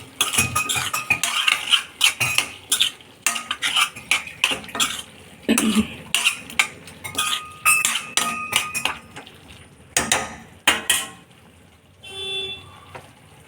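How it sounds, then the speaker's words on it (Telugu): A metal spoon stirs chili, coriander and garam masala powders into food in a pan, scraping and clinking against the metal in irregular, close strokes, with a brief throat-clearing sound partway through. "దీంట్లో కొద్దిగా గరం మసాలా పౌడర్ మొత్తం మిక్స్ చేసుకోవాలి"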